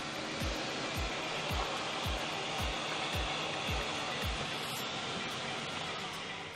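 A HAKO Scrubmaster B30 scrubber drier runs with a steady, loud whooshing hum, and a regular low thumping pulse of about two beats per second sits beneath it.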